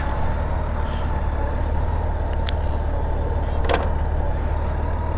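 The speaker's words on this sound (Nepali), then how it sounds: "कडा बाइक आयो एउटा फेरि" A powerful motorbike passes on a seaside road in Korea amid a steady, loud roar of road traffic, with a brief sharp burst midway.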